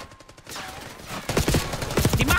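Rapid shotgun blasts and battle gunfire from Call of Duty: Black Ops 6, loud and dense through the second half, with a quieter stretch of game sounds before the firing kicks in.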